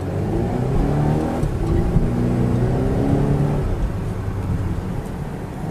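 Engine of a Volvo XC90 SUV while driving in dynamic mode, a steady smooth hum with rising and falling harmonic tones as it accelerates, continuous and fairly close with road noise underneath.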